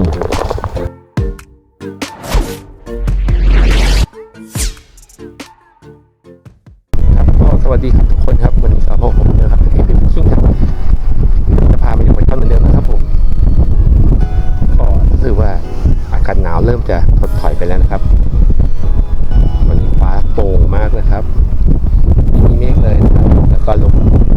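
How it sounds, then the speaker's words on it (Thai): Strong wind buffets the microphone outdoors beside a weedy pond while snakehead fishing, a loud continuous rumbling roar after a few seconds of broken, gusty noise. "ลมมันแรงมากก็เลยไม่ได้เดินต่อครับ"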